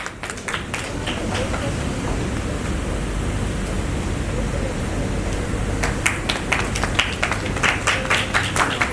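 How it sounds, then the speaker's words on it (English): Audience applause at an academic conference's best paper award ceremony, a dense wash of clapping from many hands that swells and continues, with some sharper individual claps toward the end. "Let's have a huge round of applause."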